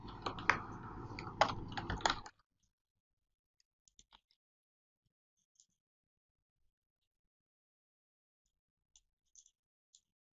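Typing on a computer keyboard: a quick burst of rapid key clicks for about two seconds, close and clear, followed by a few isolated sparse clicks spread out over otherwise quiet time.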